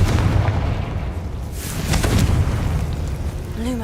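A Confringo fire-blast spell in Hogwarts Legacy: a deep, rumbling boom that swells into a crackling burst and fades, loud and near, with a short bright ping at the end.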